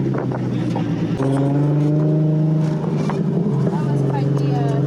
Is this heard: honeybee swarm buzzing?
no